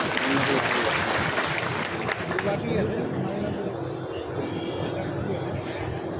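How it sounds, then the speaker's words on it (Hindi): Crowd applause at a large outdoor Bahujan Samaj Party rally in Morena, Madhya Pradesh, a steady broad roar of clapping with an amplified voice carrying over it throughout. "सभी लोग जोरदार तालियों से स्वागत करें"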